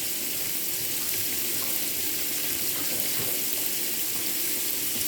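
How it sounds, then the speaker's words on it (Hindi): Tap water runs steadily into a kitchen sink as hands are washed during cooking, a constant close broadband rush with no talk. "मैं ज़रा हाथ धो लूँ।"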